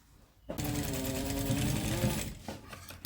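A sewing machine stitches curtain fabric for pencil pleat curtains, running steadily and loud for about two seconds after a quiet start, then stopping with faint handling noises.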